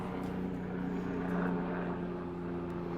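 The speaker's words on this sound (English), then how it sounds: "there's a helicopter overhead" Helicopter passing overhead at an outdoor shooting range, a steady droning rotor and engine hum with strong low tones, continuous and fairly loud throughout with no talk.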